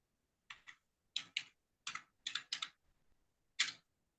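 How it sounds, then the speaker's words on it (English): Short bursts of keystrokes on a computer keyboard as a web address is entered in a browser, arriving in quick clusters of clicks with brief pauses between them, close and clear over a quiet background. "type in Quickbooks Online."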